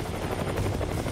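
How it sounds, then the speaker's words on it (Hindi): A military helicopter flies during the war in Ukraine, its steady, dense rotor and engine roar loud and continuous, with no talk over it. "पहले एक हेलीकॉप्टर तेजी से उड़कर एक तरफ जाता दिखाई दिया"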